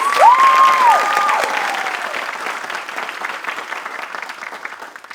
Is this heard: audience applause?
yes